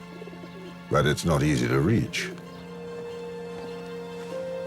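Pigeons coo softly beside an old bridge over the River Tarn in Albi, a low steady murmur that runs under a brief stretch of someone talking and then continues alone.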